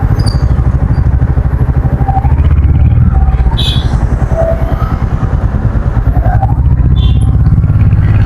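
A 2025 Royal Enfield Hunter 350 motorcycle rides along and swings through a U-turn, its engine giving a steady, loud, close low thump and rumble for the whole stretch.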